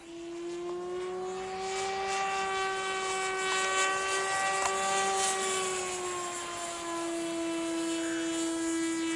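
A Sky Hunter RC model plane with a folding boom flies overhead, its electric motor making a steady, high-pitched whine. The pitch shifts slightly as it passes through loops and dives, and the tone stays continuous and fairly close.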